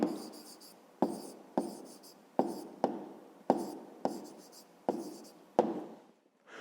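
A pen writes an answer on paper in a math exercise, making a series of short, close scratching strokes with brief pauses between them, heard alone.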